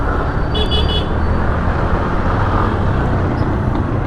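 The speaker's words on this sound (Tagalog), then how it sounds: "Haba ng traffic daw." Busy road traffic in the Philippines rolls past as a dense, steady roar of engines, with a short car horn toot standing out briefly near the start.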